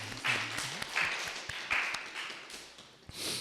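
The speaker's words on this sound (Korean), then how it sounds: "우리 예배를 받으신 하나님께 감사 찬양의 박수 올려드리겠습니다" Congregation applause fills a Korean church's Sunday worship service in Freiburg, a soft, steady patter of many hands clapping at a modest distance, with faint low tones beneath.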